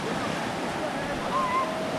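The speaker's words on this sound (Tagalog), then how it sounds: "ayan, malakas na ang alon." Strong ocean waves roll onto the shore at a beach campsite in the morning, a steady near and loud wash of surf mixed with wind buffeting the microphone.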